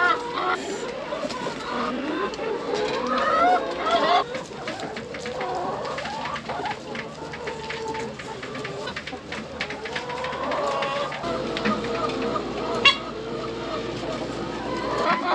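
Chickens on a farm cluck and chatter in a coop, a busy mix of nearby bird calls under occasional talking, with one sharp louder squawk toward the end.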